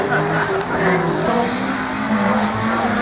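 A race car runs its second lap at a French slalom event, the Slalom du Pays d'Ancenis, its engine revving and shifting pitch as it accelerates, loud and steady, with commentary talk over it.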